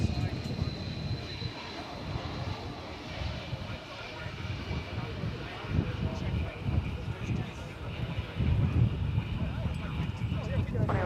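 An Airbus A300 airliner arriving at DFW airport gives a low, steady engine rumble at a distance, swelling somewhat louder toward the end.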